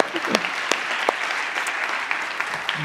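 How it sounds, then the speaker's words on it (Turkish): Audience applause fills a short film award ceremony at a seventh short film competition, a steady dense patter of many hands with a few sharper claps standing out over the continuous wash. "Sayın Güler Sabancı'yı alkışlayalım."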